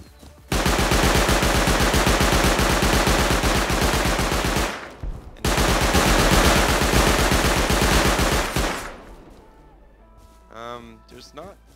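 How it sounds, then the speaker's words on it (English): Auto turrets in the video game Rust fire through base walls in long, rapid, relentless automatic bursts, loud and dense, with a brief pause midway before a second burst, then fading into quieter game sounds. "these auto turrets are just going to fucking kill you on the spot"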